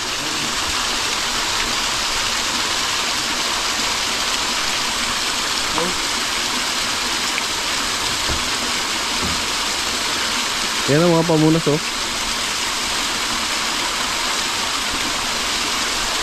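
Mountain water flows continuously in a steady broadband rush near a volcano, close and loud throughout, while a person speaks briefly over it.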